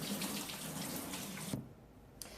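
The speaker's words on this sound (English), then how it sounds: "I'm going to wash my hands real quick." Hands washed under a running kitchen tap, a steady close rush of water that cuts off abruptly near the end, followed by a brief faint splash.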